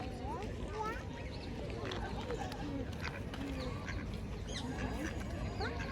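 Ducks quacking repeatedly at close range, their calls running continuously under the chatter of people talking nearby.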